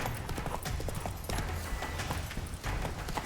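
Roach the horse gallops in The Witcher 3, rapid rhythmic hoofbeats pounding continuously and close, with a brief snort and faint game ambience behind.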